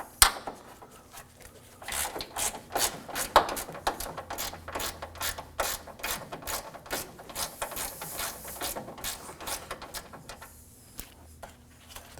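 A 10mm bolt being loosened with a ratchet while removing the AC condenser cooling fan on a 2014–2020 Acura MDX: a long run of rapid, close ratchet clicks, then a few lighter metallic taps as the bolt comes free.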